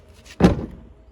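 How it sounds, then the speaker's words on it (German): A single loud, close thud as a camper van door is slammed shut on a micro-camping trip in Sardinia, preceded by a faint rustle and then a quick fade. "Ich weiß gar nicht, wie wir die Tür wieder zukriegen wollen."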